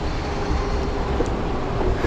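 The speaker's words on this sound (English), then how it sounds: "We got a freaking train." A train rolls past along the Schuylkill River Trail, giving a steady, loud rumble with continuous rail clatter throughout and no voices.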